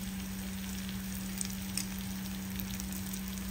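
Tomatoes with turmeric sizzle in a pan, a soft, continuous frying hiss with a few faint pops and light stirring over a low steady hum.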